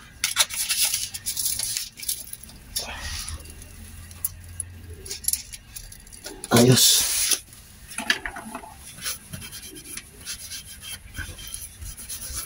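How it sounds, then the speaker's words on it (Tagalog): Scratchy rasping of sandpaper rubbed against metal in short strokes, with one louder sustained scrub midway and a brief spoken word early on. "Tapos gagamit tayo ng liha"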